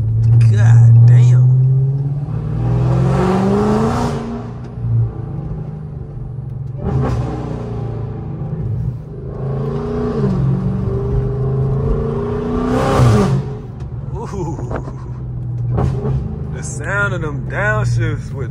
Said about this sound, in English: Them downshifts with them headers on the Hellcat.